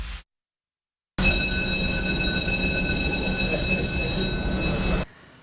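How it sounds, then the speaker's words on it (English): An industrial clothes dryer tumbling coats at a uniform company gives a loud, steady roar with high metallic ringing tones, starting abruptly after a brief silence and running about four seconds before cutting off. "That is the sound of coats ready to come out of the dryer at Alsco Uniforms."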